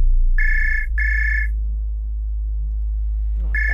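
A phone ringtone sounds in a repeating pattern of bright, steady electronic trills, two bursts, a pause with low background hum, then another burst, fairly loud and without talk.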